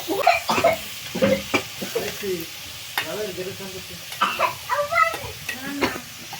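Chicken being stirred in a frying pan, scraping spoon strokes and soft sizzling in close, irregular bursts, with background voices talking now and then.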